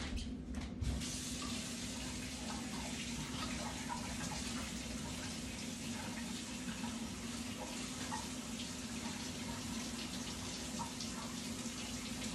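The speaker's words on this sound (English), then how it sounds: "And then we're gonna add some warm water." Warm water running from a kitchen tap for bread dough, a continuous steady splashing stream with a low hum beneath, constant and unbroken throughout.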